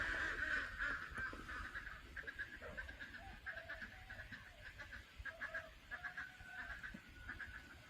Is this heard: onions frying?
no